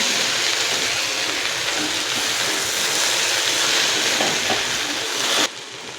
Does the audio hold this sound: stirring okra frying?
yes